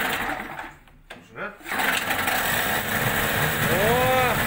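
An ALLFA CG outboard motor revs up with a steady, buzzing small-engine drone and a brief dip, then a rising whine, while people talk close by.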